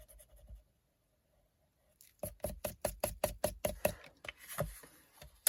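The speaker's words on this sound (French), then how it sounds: "Vous pouvez gommer vos tracés." Quick back-and-forth rubbing of an eraser over paper, removing pencil lines from a handmade junk journal embellishment made from recycled toilet paper rolls; after a quiet pause, a rapid series of about a dozen close, dry scrubbing strokes.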